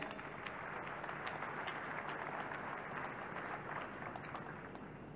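Congregation applauding for Jesus Christ at a church healing service, a steady, even roar of many hands clapping heard from some distance, fairly faint and continuous.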